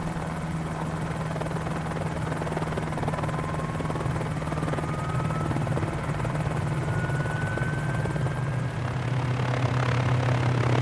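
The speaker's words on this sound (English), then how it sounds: "Let's restart the engine and see what else we can get this helicopter to do." A Mini 500 helicopter's turbine whine rises in pitch over a continuous rotor drone, growing slightly louder toward the end as the engine restarts.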